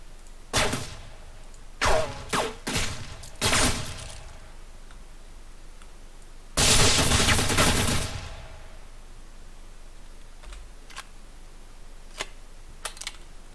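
Gunfire in an Unreal Engine 4 game: several sharp separate shots early on, then a longer dense burst of rapid fire, followed by a few faint ticks, with no talking.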